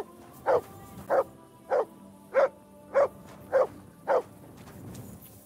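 The dog Mutt in the game Kingdom Come: Deliverance II barks seven times in an even, steady rhythm, each bark short, clear and close over a quiet background.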